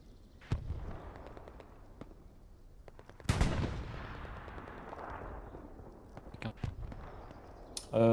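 Artillery shells and gunfire in a video game battle with a tank nearby: scattered sharp blasts and booms, one heavy impact standing out, over a rumbling battlefield background while French-speaking players talk.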